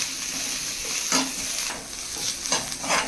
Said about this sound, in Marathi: लसूण आणि कांदा छानपैकी परतून घ्यायचा आपल्याला